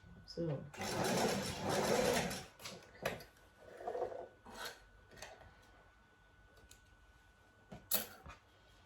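A sewing machine stitches fabric for a knot headband in one short, loud whirring burst, followed by quieter handling noise and a person talking nearby.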